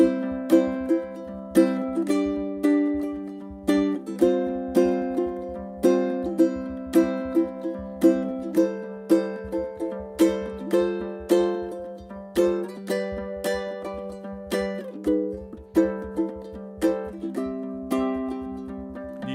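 Low G ukulele strums a chord progression with a booming low bass, repeated crisp strums in a steady rhythm, played alone and close.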